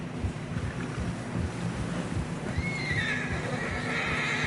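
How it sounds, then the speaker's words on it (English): Horses struggling through deep fresh snow in Red Dead Redemption 2, with a drawn-out whinny rising over a dense bed of wind and muffled hoof thuds, steady and close throughout. "Horses are struggling."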